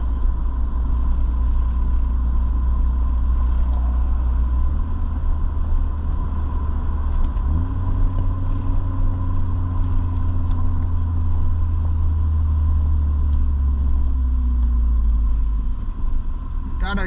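Car with a worn radiator cruising at 35 mph on a road toward Malibu beach, giving a steady low engine and road rumble with a slight shift partway through, continuous throughout.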